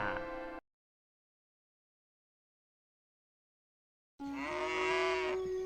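An old buffalo lets out a low, drawn-out moo near the end, preceded by a short animal call and a long stretch of silence.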